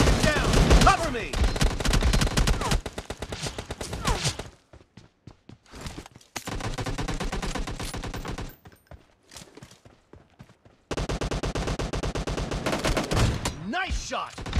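Rapid automatic gunfire in PUBG Mobile rattles in long, loud bursts separated by brief pauses, with a few single shots and short gaps of near silence between volleys.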